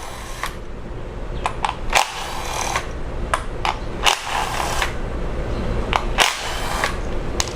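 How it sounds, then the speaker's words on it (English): Ratcheting socket wrench backing out ignition coil bolts on a Jeep 2.4 engine, giving quick clicking bursts every couple of seconds over a steady background hum, close by. "we can go ahead and remove the ignition coils now with a 10 millimeter socket"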